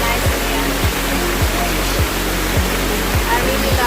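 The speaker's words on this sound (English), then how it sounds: "I really love the sound of the water flowing down." A waterfall in a conservation park in Dundas, Ontario, rushes in a dense, steady roar close by, with a soft rhythmic thumping pulse underneath throughout.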